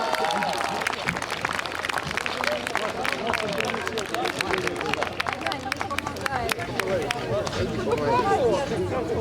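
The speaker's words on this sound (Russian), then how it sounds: "Ваши аплодисменты, вот им один приз на всех" Audience applause for the children's ensemble Krylatye at the Solovyinaya Trel 2019 contest: dense, steady clapping from a crowd with murmured voices mixed in, running throughout.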